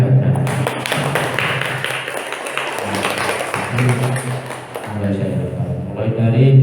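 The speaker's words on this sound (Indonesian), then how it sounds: "ya tepuk tangan terakhir." A final round of applause at an annual evaluation gathering, with a crowd clapping loudly and continuously, rising and falling slightly, while a voice keeps talking over the claps.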